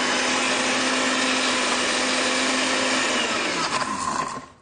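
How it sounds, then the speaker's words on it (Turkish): A kitchen blender whirs steadily as it purees frozen bananas with cocoa, a loud continuous motor roar that holds for several seconds before winding down and stopping near the end. "Bunları güzelce blenderdan geçiriyorum."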